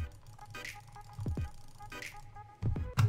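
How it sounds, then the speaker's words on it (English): Rapid jitter clicking on a gaming mouse, a Model I, comes through as sharp clicks in bursts with a few louder taps near the end, close and alone. "This is jitter clicking normally."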